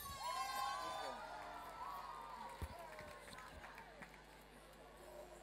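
A crowd gathered for the Christmas candle evening (Kaarsjesavond) in Schiedam cheers and whoops for the mayor's Christmas speech. The sustained outdoor babble has scattered shouts and a brief sharp knock midway.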